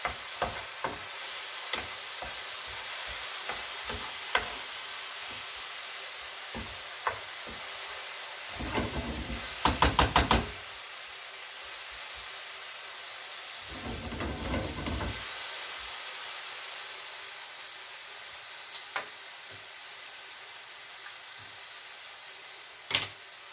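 Apples melting with sugar, cinnamon and four-spice in a pan, giving a steady soft hiss and sizzle with scattered clicks and two louder bursts of bubbling, no talk.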